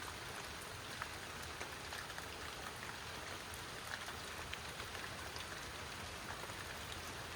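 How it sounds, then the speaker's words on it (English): Steady rain from a mild thunderstorm at a lake falling and pattering on surfaces, a dense continuous hiss with scattered droplet ticks, even and unbroken throughout. "The rest of it's just rain."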